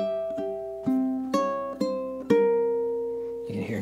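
Ukulele melody plucked in steady eighth notes, about eight clear notes in an even rhythm, close and moderately loud with no talking.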